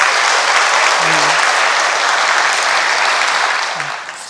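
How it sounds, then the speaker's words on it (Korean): Loud, full applause from a congregation at a Buddhist temple dharma service, dense clapping from many people that stays strong before tapering off in the final moments. "큰 박수를 보내드립니다."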